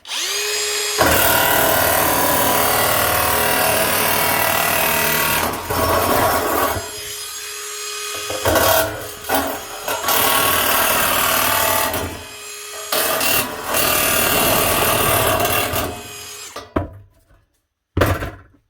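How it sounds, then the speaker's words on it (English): A Metabo cordless nibbler chews through material with a loud, harsh, continuous grinding rasp that pauses and restarts several times, then cuts out near the end. "If you're looking for a cordless nibbler, that Metabo is definitely one to be looking at."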